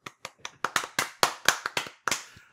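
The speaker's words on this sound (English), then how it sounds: "Why are we clapping?" A short burst of uneven hand clapping, a dozen or so sharp claps at a loose, irregular pace, fairly close and with no one talking.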